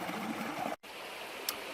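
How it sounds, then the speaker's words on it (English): A small river flows along the North Coast Trail on Vancouver Island, a soft steady wash of water at moderate distance, briefly cut out for an instant partway through. "So I found another river."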